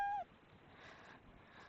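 A short cat meow sound effect plays at the start of a Scratch project, a brief tonal cry with harmonics that cuts off quickly, followed by faint background hiss.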